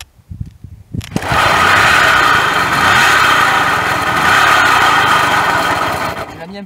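A small engine is pulled over with a few sputtering tries, then catches and runs at a loud, steady idle set a little low, droning continuously before cutting out at the end.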